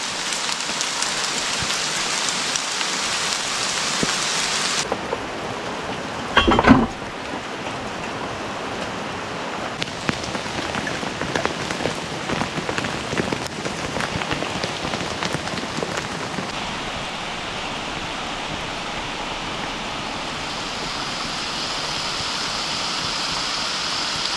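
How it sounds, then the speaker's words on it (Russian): Steady rain mixed with hail pouring down outdoors in a forest near a log hut, a dense continuous hiss throughout with a brief louder knock partway through. "Не только дождь, но еще и град. Град падает."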